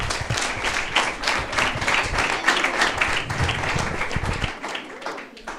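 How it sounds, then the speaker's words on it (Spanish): An audience at a talk on the founding of a women's football club applauds, steady and fairly loud clapping from a crowd lasting several seconds before fading out. "Vamos a dar un aplauso a Mané"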